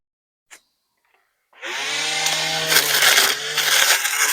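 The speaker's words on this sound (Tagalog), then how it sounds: "umpisahan muna natin uli na mag grass cutter." Grass cutter trimming grass on a rural plot: after a short silence broken by a couple of small knocks, a motorized trimmer whines up loud and holds a buzzing, harmonic drone, nearby.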